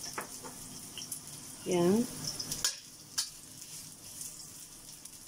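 Ginger frying in a pan, a soft steady sizzle with a few clinks and stirring scrapes, and a short spoken word over it.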